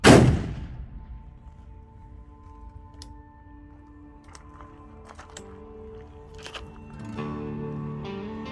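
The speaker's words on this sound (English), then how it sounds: "Shoot the torso target, or whatever you want." A single loud gunshot from a Colt 1847 Walker .44 percussion revolver fired at an outdoor range, a sharp crack with a long ringing decay, followed by faint scattered knocks and low background noise.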